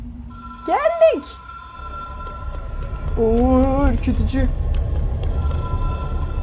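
An old telephone bell rings twice inside the game Control, a short trill followed by a longer one, heard over low ambient rumble, with a voice speaking briefly just before.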